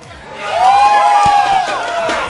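A live crowd at a bar gaming event cheers and whoops for two players, with a loud swell of shouts and a sharp slam midway before the noise eases off slightly.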